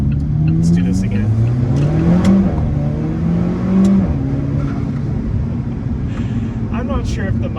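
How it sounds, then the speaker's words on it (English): An Alfa Romeo 4C sports car's turbocharged engine revs loudly up and down from inside the cabin, with a possible turbo blow-off hiss, while voices talk over it. "I'm not sure if the microphone is picking up that blow-off noise, but man, it's such a good sound."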